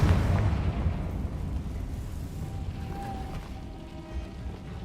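A Confringo spell explosion in Hogwarts Legacy sets off a loud, deep boom at the start, then a long rumbling decay with a faint whistling tone toward the middle.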